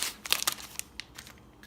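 Plastic toy packaging for a 3D princess playset being cut open from the bottom with scissors, giving a close series of crisp crinkling snips and crunches that cluster early, then thin to a few sparse crackles.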